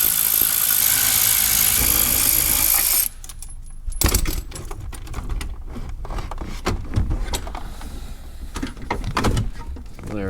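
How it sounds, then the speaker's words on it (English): Bolts come out of the steering column of a Dodge Dakota: a loud, steady whir of a power tool at first, then clunks, clinks and rattling of metal parts at close range. "now I'm gonna remove the 4 bolts for the steering column"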